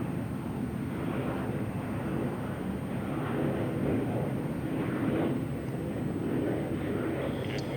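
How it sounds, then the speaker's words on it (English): A jet airliner lands at SFO airport, its steady broadband engine rumble and rushing roar carrying at a moderate distance without a break. "Just another boring, graceful landing"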